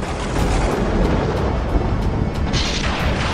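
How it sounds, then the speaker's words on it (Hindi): Loud, broadband rumbling crack of thunder from a lightning strike in a storm, sustained and boomy throughout with no voices. "उसी समय आसमान में बहुत तेज बिजली कड़की।"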